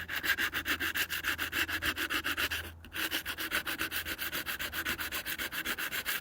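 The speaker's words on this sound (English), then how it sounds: "sand them smooth with this sandpaper." Sandpaper scrubbing steadily over guitar fret ends and wood, a close, even back-and-forth rasp with a brief pause partway through.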